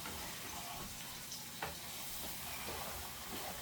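Liver and onions fry in a pan over high heat, giving a steady broadband sizzle with a brief scrape or stir partway through, close and continuous with no talking.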